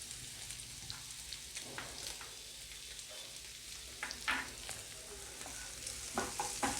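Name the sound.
cinnamon and cloves frying in oil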